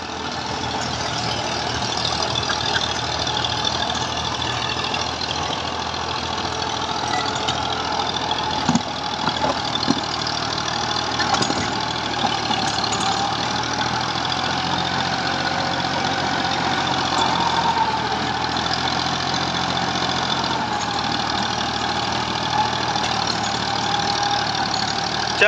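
An old 1984 model 240 tractor with a 54-blade rotavator holds a steady, mid-pitched diesel drone with a throbbing knock, running loud and continuous without a break.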